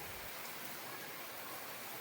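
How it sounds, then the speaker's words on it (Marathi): Steady rain falling outdoors in a village during building plastering work, a continuous soft hiss with no distinct drops, even and unbroken throughout. "इलो पाऊस"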